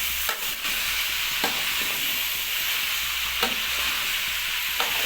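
Potatoes are stirred through frying mixed vegetables in a pan: a continuous close sizzle broken by a few distinct spatula scrapes and knocks, with nobody speaking.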